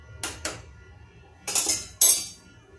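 A spoon clinks against a metal pot of rasam during stirring, giving four sharp, close knocks in two pairs, with the later strikes louder and ringing briefly.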